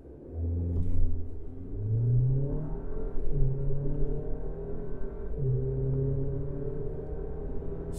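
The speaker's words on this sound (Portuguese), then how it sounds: "Vamos fazer o primeiro 0 a 100 que você vai ver da Rampage RT." A Ram Rampage R/T pickup with a 2.0 turbo engine accelerates from a standstill on a test track, its engine note climbing steadily in pitch through several gear changes. The drone is heard from inside the cabin, moderately loud, with no talk.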